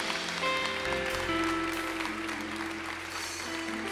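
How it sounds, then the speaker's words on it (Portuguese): Church congregation applauding during a sermon, a steady wash of many hands clapping that holds evenly throughout, close and full. "aplauda ao Senhor"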